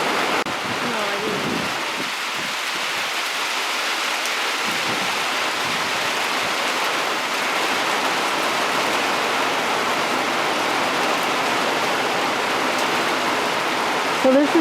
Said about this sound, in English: This is the beginning, lots of rain.